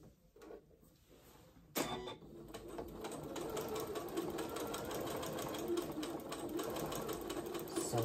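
A sewing machine stitches close to a folded seam on a New Look 6891 garment. A faint handling sound comes first, then the motor starts up and hums steadily with a fast, even needle rhythm through to the end.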